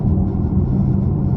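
A 500 hp LT1 Camaro engine rumbles steadily at close range, a loud, continuous low drone with no speech over it.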